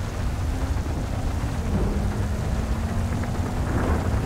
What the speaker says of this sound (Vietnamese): Anh đang nghe tiếng mưa nó lớn.